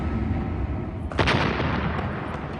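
Cannon fire at the siege of Constantinople: a sudden deep booming blast breaks through a dense, rumbling battle din, then trails off into continued noisy clamor.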